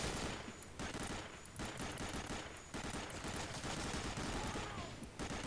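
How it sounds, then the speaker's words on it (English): An MG42 machine gun in Medal of Honor: Allied Assault fires long, continuous, rapid bursts that stay loud and dense throughout, broken only by brief pauses between strings of fire. "at least you've got unlimited ammo on this MG42"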